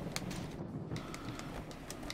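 Pigeons cooing in the skateboarding video game Tony Hawk's Underground 2, soft repeated coos over a steady ambient game background, with no talk.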